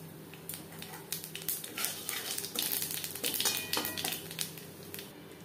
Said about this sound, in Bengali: মাছ ভেজে নেওয়া তেলে ফোড়নে দিয়ে দেব কালো জিরে।